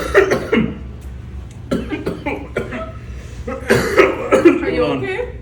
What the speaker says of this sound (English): Just had a cough.